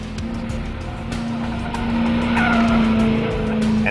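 A SuperSnake muscle car holds a steady squeal of tires as it corners hard on a skid pad, the engine droning underneath and the screech swelling louder toward the end.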